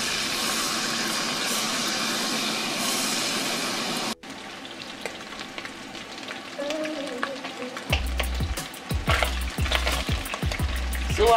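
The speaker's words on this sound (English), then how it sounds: "Using fresh shrimps. I'm going to fry it for only 15 minutes." Fresh shrimps frying in hot oil with a loud, steady sizzle, followed by stirring, scraping clatter and splashing, with bursts of louder crackle toward the end.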